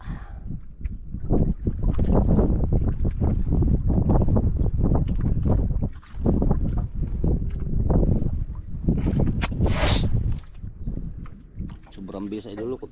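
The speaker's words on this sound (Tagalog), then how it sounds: "Isang bangka." A small bangka boat out at sea, with a steady engine and wind rumble buffeting the microphone and voices talking loudly over it throughout.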